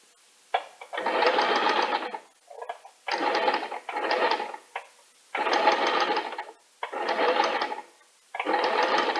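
A sewing machine stitching fabric runs in five or six bursts of rapid, buzzing mechanical whirring, each about a second long with short pauses between them, close and fairly loud with no voices.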